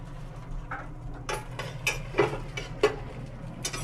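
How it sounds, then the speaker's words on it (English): A metal utensil scrapes and clanks in a wok or pan while egg is stirred in hot oil for Guyanese Chinese fried rice, giving a string of sharp, irregular taps over a low sizzling hum. "So we are going to add the egg onto the hot oil. We're going to stir it up a little bit"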